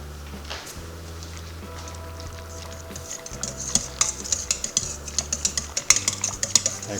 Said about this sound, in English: Then you stir it up with a whisk.